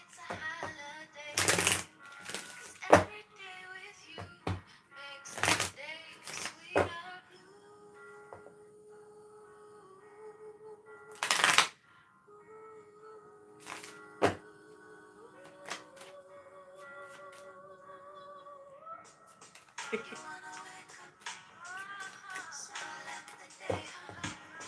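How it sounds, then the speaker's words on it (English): Cards are riffled and shuffled in several sharp, loud bursts with tapping between them, over soft background music. "let's just shuffle these cards, all right?"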